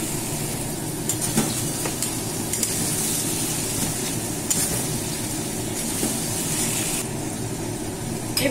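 Boiled mutton pieces hitting a hot pan for mutton posto give off a loud, steady sizzle and frying hiss with stirring, continuous throughout and with no talking.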